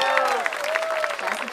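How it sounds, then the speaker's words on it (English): A live audience at a flamenco music performance gives a short burst of applause for a cajon player, moderately loud and brief, with voices mixed into the clapping. "Please give her a round of applause."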